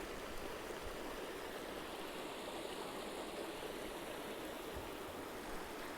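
A creek on wooded ridge land flows past a swimming hole, giving a steady, even rush of water that stays constant and fairly soft throughout with no voices.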